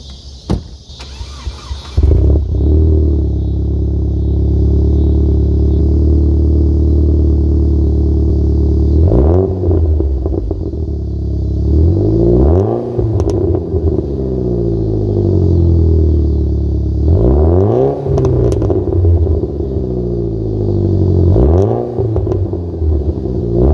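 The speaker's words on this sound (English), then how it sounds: "this is a full Borla exhaust, and it sounds pretty good" A 2000 Saab 9-3 Viggen with a full Borla exhaust idles with a deep exhaust burble, then revs up sharply several times, each rise falling back to a throaty idle.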